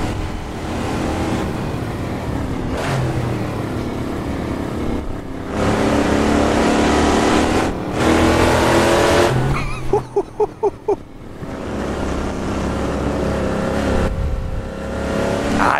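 A GMC Vandura 1500 van in the Assetto Corsa racing game drives hard, its engine droning loud and steady, with a few rapid gear-shift dips midway before revving back up.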